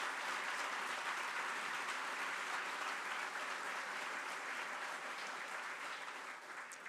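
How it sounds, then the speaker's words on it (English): Sustained applause from a large audience at a city address, a thick, steady wash of many hands clapping at a constant level that eases off slightly toward the end. "So let's give our entire team another round of applause."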